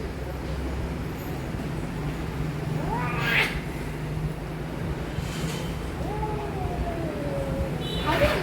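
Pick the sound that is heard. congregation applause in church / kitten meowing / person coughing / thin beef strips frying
kitten meowing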